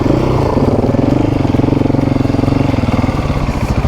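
An adventure motorcycle engine runs off-road at a steady, loud, close idle, its rapid pulsing beat continuous throughout with no voices.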